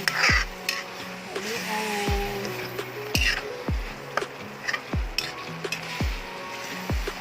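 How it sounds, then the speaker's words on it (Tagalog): Shrimp bagoong sizzles steadily in a hot pan while a utensil scrapes through it in regular strokes, roughly one per second, close and clear. "so pwede na natin siyang haluin"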